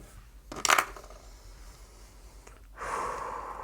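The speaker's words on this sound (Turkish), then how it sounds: "O sırada da arkadaşlar nefes alalım verelim. Derin derin ağır ağır" Slow, deep breaths come in two airy swells, a sharp inhale followed later by a longer, softer exhale, close and quiet against a faint room hum.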